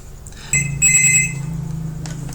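A telephone bell rings in one short burst of bright, trilling tones that rise in the middle and then fade under a lingering hum, loud and close.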